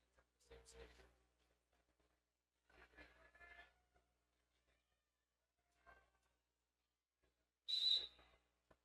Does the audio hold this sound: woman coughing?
no